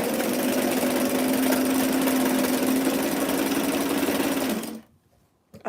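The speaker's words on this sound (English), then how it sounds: "And we are good to just sew a nice long straight" Domestic sewing machine running a long straight stitch on a T-shirt, a steady, loud mechanical whirring hum that holds evenly for several seconds before cutting off abruptly into quiet.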